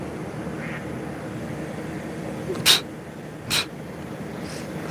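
Two short, sharp bird calls sound near a fishing spot at a spring, a quick quack-like squawk followed by another a second later, over steady outdoor background noise.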